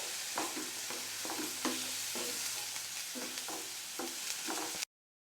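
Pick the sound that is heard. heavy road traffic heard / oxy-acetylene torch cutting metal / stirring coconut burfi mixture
stirring coconut burfi mixture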